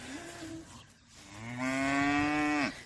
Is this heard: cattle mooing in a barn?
yes